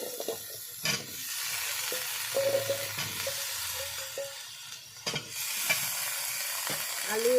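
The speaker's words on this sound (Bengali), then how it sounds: "আলু এবং মশলা সব আমি একসঙ্গে কষিয়ে নেব" Potatoes frying with spices in a pan give a soft continuous sizzle, broken by a few sharp scrapes and knocks of stirring. Close but fairly quiet, with a faint background hum.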